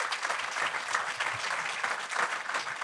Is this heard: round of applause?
yes